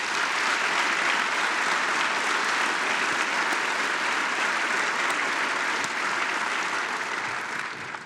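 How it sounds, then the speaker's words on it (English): Loud, sustained applause from a large audience at the 36th Space Symposium opening ceremony, clapping steadily before tapering off at the end. "one more round of applause, please."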